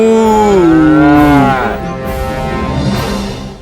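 A buffalo gives a long, loud, close moo that rises and falls in pitch, followed by a second lower drawn-out call, with no talking.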